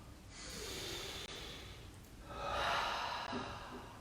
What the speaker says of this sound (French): Une grande inspire. Encore.